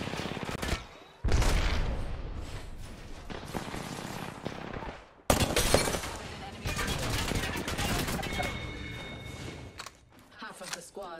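Frag grenade and arc star explosions in a PC video game, heavy booms and crackling blasts in loud bursts with brief gaps between them, mixed with rapid gunfire, close and dense.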